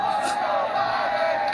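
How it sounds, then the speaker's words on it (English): A political crowd chants in the distance. The sound is a steady, blended roar of many voices with a faint tonal ring laid over it. "as you can hear the chants from the crowd"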